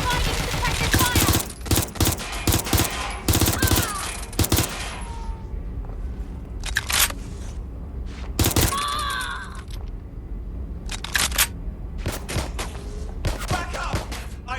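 Suppressive gunfire in the video game Watch Dogs Legion: sharp, loud bursts of automatic fire in clusters, separated by brief lulls, with shouted game voices between volleys.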